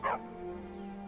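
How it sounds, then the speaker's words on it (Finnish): A single short dog bark from a dog in the video game Skyrim, loud and close at the very start, followed by a steady low game ambience hum. "Siellä on koira."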